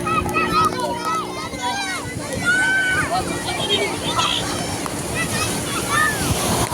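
Sea waves wash continuously at Suvali beach, with steady surf and splashing under the chatter of nearby people and children.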